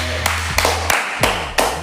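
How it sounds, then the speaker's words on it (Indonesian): A handful of sharp, separate hand claps ring out over a low background hum, about five distinct claps spaced roughly a third of a second apart and fairly close. "Wah, luar biasa tepuk tangan."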